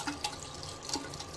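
Tap water running to start an aquarium siphon hose, a steady faint flow with a few brief drips and splashes, no talking.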